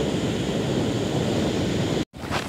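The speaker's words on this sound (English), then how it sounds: "He's not too sure about those waves and the water and the seagulls." Surf rolling onto a Lake Huron beach at a teepee campground, a steady broadband wash of waves mixed with wind noise, loud and continuous before a brief dropout near the end.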